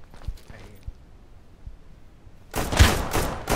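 Gunfire in the survival shooter Deadside breaks out after a quiet stretch, a sudden loud volley of overlapping shots that fills the last second of the clip.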